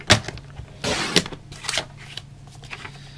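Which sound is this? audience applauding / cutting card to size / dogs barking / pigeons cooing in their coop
cutting card to size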